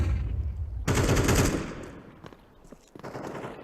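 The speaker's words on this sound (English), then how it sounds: "Throwing a flashbang." A flashbang grenade goes off in the Arma 3 military game: one loud, sharp blast that rings out briefly, then falls to a quieter background with a few faint later pops.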